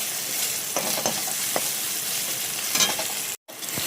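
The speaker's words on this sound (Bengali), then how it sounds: "পেঁয়াজ, রসুন আর শুকনো লঙ্কা একসাথে তেলে দিয়ে দিয়েছি, দিয়ে ভাজছি, একটু লাল লাল করে ভেজে নিই।" Onion, garlic and dried red chilies frying together in hot oil for stir-fried greens give a steady close sizzle, with a few light stirring scrapes and one brief dropout near the end.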